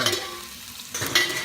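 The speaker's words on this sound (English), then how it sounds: "we'll give this a good stir again" Squid and tofu stir-fry with sauce sizzle in a pan while a utensil stirs them, a steady close frying hiss that brightens with a couple of scraping stirs near the end, and no voices.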